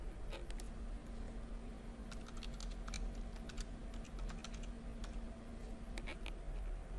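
Someone types a password on a computer keyboard, a quiet run of irregular clicking keystrokes over a faint steady hum, with no talking.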